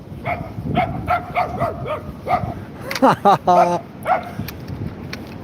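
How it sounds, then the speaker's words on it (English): A tiny dog barks repeatedly on a seaside promenade at Withernsea, a run of high, quick yaps ending in a rapid excited burst, heard close with people talking nearby. "smallest dog's always the noisiest"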